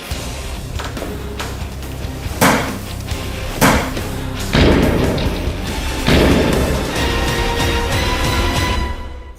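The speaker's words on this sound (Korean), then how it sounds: "호일에다 충격을 줘서 발화 폭발하도록 하겠습니다." A mixture of sodium peroxide and red phosphorus on foil is struck to ignite it, giving a series of about four sharp, loud bangs a second or so apart, each followed by a brief crackling rumble.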